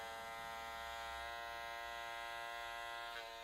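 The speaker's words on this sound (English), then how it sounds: "just hold the ear out of the way and use the corner of the trimmer blade" An electric hair trimmer hums steadily and close up as its blade corner cuts hair around the ear during a two block haircut, a continuous buzzing drone with no speech.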